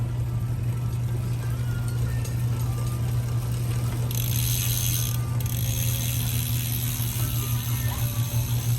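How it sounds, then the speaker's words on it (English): Steady rapid clicking of a Bontrager rear wheel freewheel ratchet spinning on a Trek Checkpoint SL 5 carbon gravel bike, close up, over a constant low hum, with no talking. "Here comes a free body sound test on this rear Bontrager wheel"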